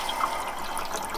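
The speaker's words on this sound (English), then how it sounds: "we're just going to let it drain all the water out" Water draining from an opened valve on an off-grid water system, a steady close hiss and trickle of flowing water, brief and continuous.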